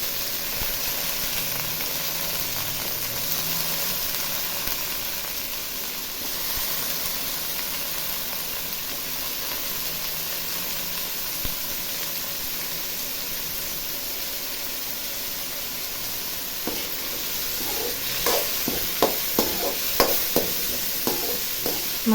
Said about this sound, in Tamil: இப்போது கட் பண்ண மஷ்ரூமை சேர்த்துக்கிறேன்.